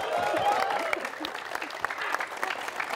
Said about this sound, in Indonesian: saya mau uh, dengar tepuk tangan lagi yang meriah untuk coach Rahmat Darmawan